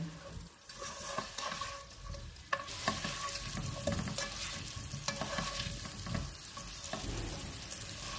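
Potatoes fry on a low flame with salt, turmeric and red chili powder for a yogurt potato dish, giving a steady close sizzle with the scrape and clatter of stirring throughout and no talking.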